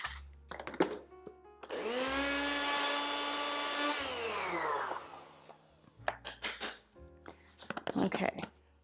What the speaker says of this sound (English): I have a 1/2 cup of rolled oats here, like I always do, and we're gonna make a flour out of that, but we're gonna grind it pretty fine